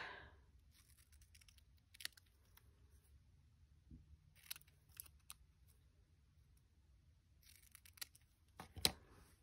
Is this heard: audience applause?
no